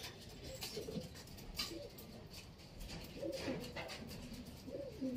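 A racing pigeon coos at a landing board with soft, low, repeated phrases over a constant noisy background, heard alone without talk.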